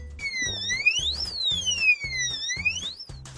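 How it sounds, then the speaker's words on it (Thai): An electronic safe's wrong-code alarm wails with rising and falling sweeping tones over a repeating pulsed beep pattern, loud and continuous for a few seconds. "ตัวตู้เซฟจะตัดการทำงานและส่งเสียงเตือนค่ะ"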